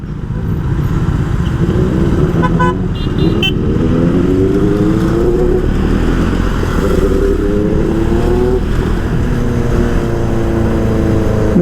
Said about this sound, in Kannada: ನಮ್ಮ ಸೂಪರ್ ಬೈಕ್ ಸೌಂಡ್ ಹೋಗ್ತೈತೆ